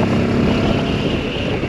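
A Benelli 702 motorcycle ridden hard, its engine a steady, loud roar throughout, mixed with heavy wind rush and no pauses.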